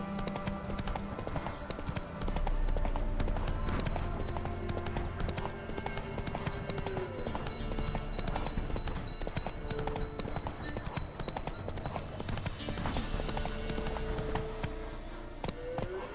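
Horse hooves gallop in The Witcher 3: Wild Hunt, a steady clip-clop rhythm running under game music and ambience throughout, loud and continuous.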